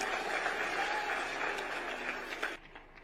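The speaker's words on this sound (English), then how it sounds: "Another round of applause for His Excellency for that wonderful speech." An audience at a formal speech event gives a round of applause, steady clapping from a crowd that sustains for about two and a half seconds and then quickly tapers off.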